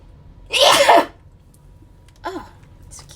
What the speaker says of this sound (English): Oh, I have to sneeze, excuse me.